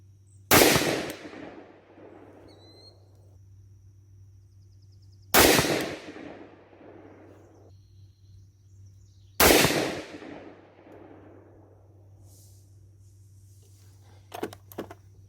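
Three loud, close rifle shots from a Springfield Armory Saint .223/5.56 firing Hornady 55gr soft-point handloads with CFE 223 powder, spaced about four to five seconds apart, each a sharp crack with a ringing decay over faint steady background hum.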